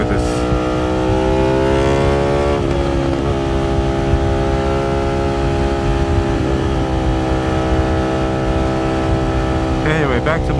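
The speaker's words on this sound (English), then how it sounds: "So I like this bike right here. It makes all kinds of beautiful noises." A motorcycle engine and exhaust run close and loud, holding a steady idle and then revving up and back down several times.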